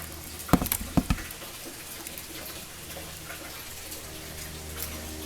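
Wet aquaponic mush poured onto a worm bin, a few soft splats and patters near the start, then quiet rustling residue.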